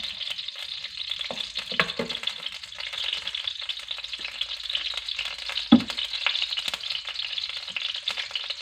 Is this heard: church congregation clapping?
no